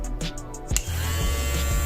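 A VGR V338 double foil electric shaver switches on, then its small motor hums steadily at close range, a constant buzz that starts after a brief click and holds to the end.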